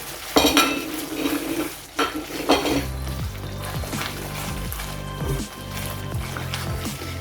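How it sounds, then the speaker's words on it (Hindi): Roasted ground coriander and cumin are stirred in ghee over a medium-high flame for dhaba-style fried chana dal, with metal spoon scrapes and clinks against the pot over a low sizzle and a steady background hum. "ये डाल देंगे और मसाले को अच्छी तरह भूनेंगे"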